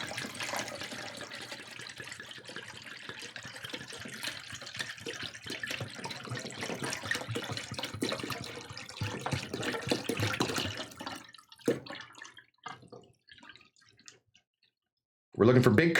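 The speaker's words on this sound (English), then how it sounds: "we're gonna pour this all in. Pouring this nice and slow." Liquid is poured slowly while curds are being made, giving a steady, close splashing and trickling stream that thins and breaks into drips before stopping, with people talking at the end.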